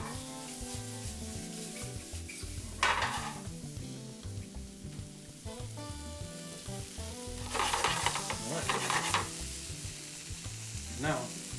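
Steak sears for a French pepper steak in a pan on very high heat, giving a loud, continuous sizzle and crackle, with a few brief scraping stirs.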